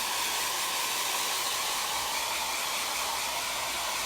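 Hair dryer blowing a steady, even broadband whoosh over wet Toscana milk paint on a finishing piece, continuous and close for the whole stretch with no talking.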